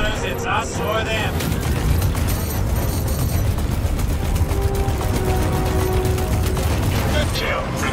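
Ship gunners fire their weapons in space combat in Squadron 42, with a loud, dense, continuous rumble of blasts and mechanical clatter. Voices can be heard under it.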